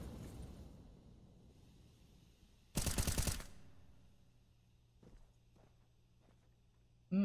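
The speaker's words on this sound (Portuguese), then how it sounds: "VSM tá trocando tiro" Gunfire in Counter-Strike: Global Offensive, with one loud burst of rapid shots mid-stretch, a few faint distant shots later, and a sharp sound at the very end over quiet game ambience.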